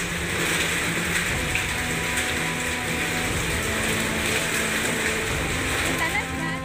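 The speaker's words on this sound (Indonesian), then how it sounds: "butiran es yang jatuh di atap rumah warga mengeluarkan suara keras" Hailstones pelt the roofs of homes in Sambi, Boyolali, Central Java, driven by strong wind, a dense, unbroken roar of rattling impacts that holds steady throughout.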